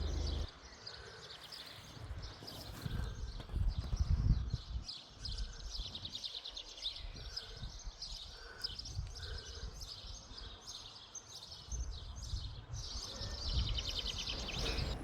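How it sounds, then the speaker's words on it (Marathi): Many birds chirp and twitter in a park cemetery. The calls are faint, distant and overlapping, with a quiet low rumble underneath. "इतकं जास्त पक्ष्यांचा आवाज येतो इथे"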